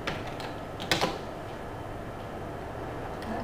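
Keys on a computer keyboard are tapped in a few scattered clicks, with a brief cluster of sharper strokes near the start, faint against a steady room hiss and no talk.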